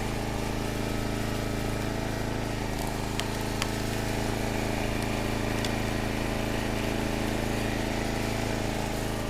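Small engine on a log splitter running at a steady idle, a constant mid-pitched drone close by with no change in speed.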